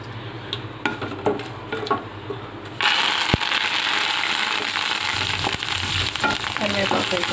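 Quiet crackling of a mustard, cumin and urad dal tempering in oil with light stirring taps, then asafoetida goes in and a loud, dense sizzle surges and holds steady to the end.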